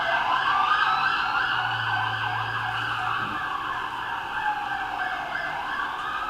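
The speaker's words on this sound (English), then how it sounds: "I've got sirens going by." Emergency vehicle sirens pass nearby, loud wailing tones that rise and fall continuously for several seconds, with a brief spoken apology partway through.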